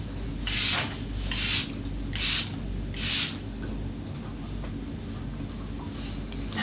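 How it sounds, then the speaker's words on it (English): Four short, bright hissing bursts of makeup setting spray from a pump bottle, evenly spaced about a second apart, close and clear over a quiet room hum. "I like to always just get a few sprays out first, because sometimes it'll get spitty"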